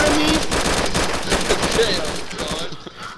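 Rapid automatic gunfire from the video game DayZ crackles in dense, continuous bursts for about three seconds, loud and close, with excited shouting over it.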